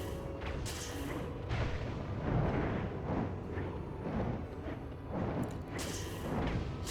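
Magick arc shots striking a dragon in Dragon's Dogma, heard as repeated dull booming impacts over a continuous rumbling combat bed, with no talking.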